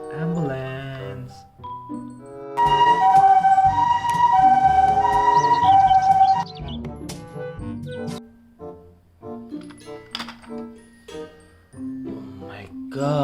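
A toy police ambulance plays a bright electronic siren that wails loudly for about four seconds, then gives way to small clicks and toy noises while a voice speaks nearby.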